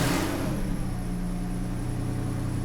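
A Mercedes W210 engine running after a repair, with its exhaust escaping through an open oxygen-sensor hole, a loud close steady mid-pitched hum after a brief rev at the start.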